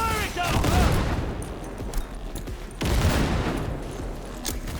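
Sustained automatic gunfire in the video game Cyberpunk 2077, dense and loud with rapid shots and a heavier burst partway through, under game effects and a faint voice.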